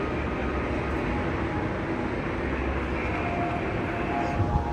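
Busy ambience inside Union Station in Washington, DC, a rail terminal with trains: a steady, dense rumble and hiss of rail traffic fills the space at an even level throughout, with no voices standing out.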